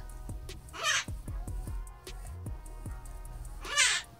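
A pet parrot squawks twice, loud harsh crow-like caws, with a run of soft knocking taps in between.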